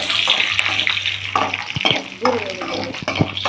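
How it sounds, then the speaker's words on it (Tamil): Cashew nuts frying in a pan for milk payasam, a continuous close sizzle with stirring scrapes and utensil knocks throughout. "முந்திரியை வறுத்து எடுத்துக்கலாம்."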